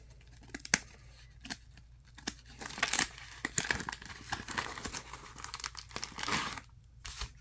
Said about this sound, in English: Let's get the scissors, because it's proving to be a little bit